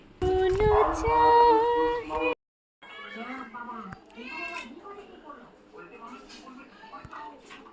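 A cat lets out one long, close meow, followed by people talking over softer background sounds.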